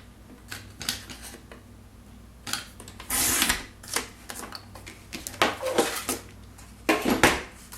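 A paper trimmer slices a 12-inch strip of cardstock in a crafting setup, giving a short burst of sliding blade and paper rasp amid light taps and rustles of handling, close and fairly quiet.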